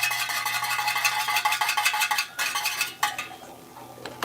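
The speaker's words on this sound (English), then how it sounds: "I'm gonna whisk it just a little bit more" Plant-based, egg-free French toast batter is whisked briskly in a bowl, with rapid, continuous metallic clinking against the sides that slows into a few separate strikes near the end.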